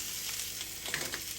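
Egg sausages fry in a pan with a steady, close sizzle, broken by small sharp pops and crackles.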